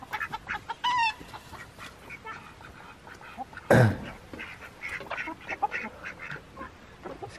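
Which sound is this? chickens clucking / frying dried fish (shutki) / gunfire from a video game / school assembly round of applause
chickens clucking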